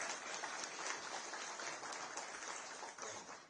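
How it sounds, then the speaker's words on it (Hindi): An audience at a public political event applauds together in a steady, dense wash of clapping that holds throughout and fades slightly at the end. "एक बार जोरदार तालियां कपिल जी के लिए।"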